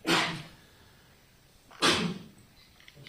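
Two sharp sneezes break the quiet of a courtroom during a civil trial, each a brief loud burst with a pause of over a second between them, against faint room tone.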